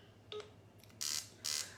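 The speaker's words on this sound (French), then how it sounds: "regardez le bruit de téléphone là" A telephone keypad dialing: one short tone, a faint second, then two loud bright bursts in uneven rhythm, close and clear with a low hum beneath and no talk.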